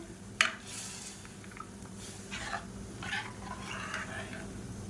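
A spoon stirs dissolved dal into rasam in a pan, giving a sharp clink at the start followed by soft, intermittent scraping and sloshing against a steady low background hum.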